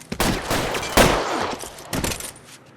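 Bursts of rapid gunfire in the video game L.A. Noire during a police shootout, with several loud volleys and sharp cracks close up in quick succession.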